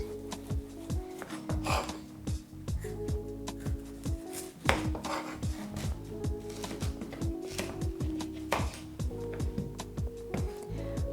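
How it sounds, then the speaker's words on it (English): Knife blade striking a cutting board in quick, uneven bursts of chopping while beets are cubed, close and crisp, with short pauses between runs of cuts. "We're gonna cube our beets."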